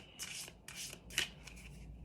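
Tarot or oracle cards shuffled by hand in a Celtic-cross style reading, several soft, quick riffling bursts close by, fairly quiet and with no talking.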